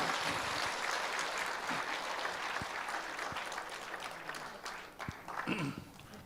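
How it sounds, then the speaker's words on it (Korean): Audience at a Korean church-style rally in Daejeon applauds to welcome a speaker, a broad steady wash of clapping that gradually thins, with a few sharp claps and brief voices near the end. "박수로 맞이하겠습니다."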